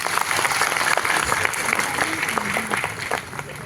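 A brief burst of audience applause at a comedy poetry program, loud and close, with scattered individual claps and crowd noise throughout.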